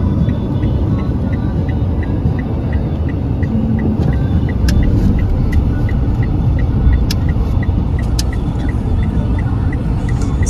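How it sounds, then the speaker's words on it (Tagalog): Steady, loud traffic rumble from many cars on a street during a market festival in Kofu, Yamanashi, Japan, a continuous wash of engine and road noise with faint higher ticking throughout. "Super dami pong mga sasakyan."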